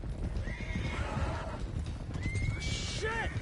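A horse in Red Dead Redemption 2 whinnies loudly twice, high and shrill, over a constant rumble of hooves and outdoor noise.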